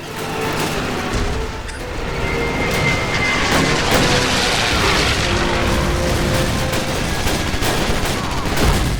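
Dense, continuous gunfire and explosions in the Call of Duty Karkov level during a tank battle on the Eastern Front, with rapid fusillades, booming blasts and aircraft noise filling the whole stretch loudly without a break.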